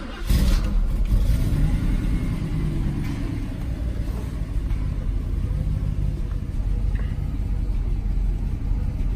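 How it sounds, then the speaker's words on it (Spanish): Mercedes SL500 Koenig Specials engine, started with a key turn and settling into a loud, steady rumbling idle close by, a short sharp burst at the start and then an even, continuous engine drone with no talking. "giramos la llave, y ya veréis que al cuarto de vuelta arranca"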